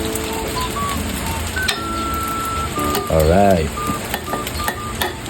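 Kimchi rice with egg and hotdog being mixed and fried in a pan: steady sizzling with scraping and clinking of a utensil, while a person talks over it.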